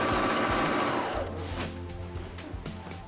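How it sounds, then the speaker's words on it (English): A sewing machine stitches the chiffon lining at a dress neckline with a loud, rapid motor whir that slows into separate, stuttering stitch thumps toward the end. "Now I'm going to put the lining right side down so that I can sew up the neckline."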